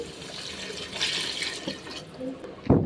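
Water is poured into a huge pot of mint rice, a thirty-kilo batch, as it cooks. A continuous rushing pour fades lower, then a sharp knock lands near the end.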